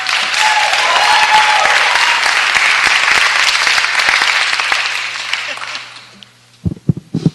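Loud sustained applause from an audience in a city council committee meeting room, a dense clapping wash that fades out near the end, followed by a few close sounds over a low hum.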